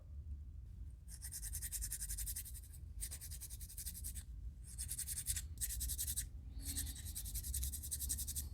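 Repeated bursts of dry scratchy rubbing, stroke after stroke with brief pauses, as a wooden fishing lure is sanded by hand, close up with a low hum underneath.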